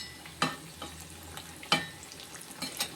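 Banana flower vada frying in hot oil and being turned: a steady soft sizzle with two distinct clinks of a utensil and a few lighter scrapes, close and fairly quiet, no talking.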